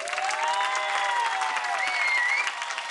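Audience applause for a singer on a televised singing competition stage, a sustained wash of clapping running the whole time, with bright tonal music or whistle-like lines sounding over it.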